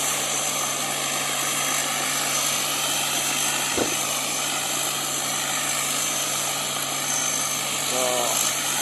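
A rice combine harvester fitted with a 260-horsepower engine runs steadily in a paddy field, a continuous loud drone with a constant hum throughout and a brief thump near the middle.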